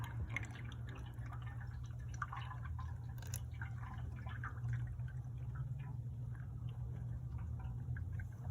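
Full synthetic motor oil trickles steadily into the engine of a 2020 Mitsubishi Outlander, a soft continuous liquid pour with faint drips over a constant low hum, heard close with no talking.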